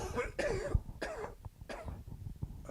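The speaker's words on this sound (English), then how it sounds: "I still got this cough." Several harsh, raspy coughs from one person, close and loud, in quick bursts spread across a few seconds with short pauses between them.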